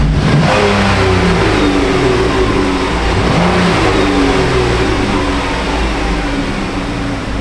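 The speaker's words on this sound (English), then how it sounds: "Give her a little bit of a rev up tune up here." A 2016 Dodge Caravan engine with a cylinder 2 misfire revs steadily and loudly up close, a continuous throaty roar with no pauses.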